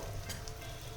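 Slit green chillies and spices frying in a pan for Bengali hilsa malai curry, a quiet, continuous sizzle with a soft crackle and no voices.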